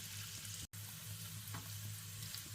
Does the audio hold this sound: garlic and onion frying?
yes